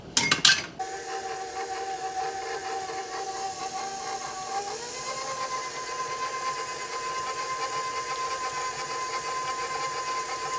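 An electric mixer whirs steadily through sour cream and pepper cookie batter, a constant motor drone that shifts pitch slightly partway through, after a brief clatter at the start.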